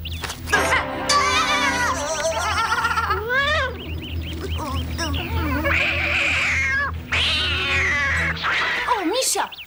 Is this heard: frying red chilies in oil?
no